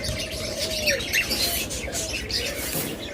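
A pair of running master cockatiels in a bird shop, giving short chirps and thin whistled calls over a busy background hum, moderately near, with no talk over them.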